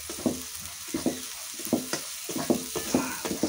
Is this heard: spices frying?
yes